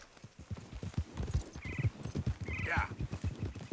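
Horse hooves clip-clopping in the video game Red Dead Redemption 2, a steady close rhythm of hoofbeats, with two short whinnies breaking in partway through.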